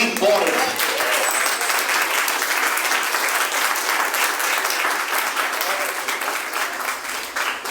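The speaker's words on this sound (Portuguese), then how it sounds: "Você pode aplaudir o nome do Senhor bem forte." Church congregation applauding loudly and continuously, a dense sustained wash of many hands clapping that fills the room for several seconds without letup.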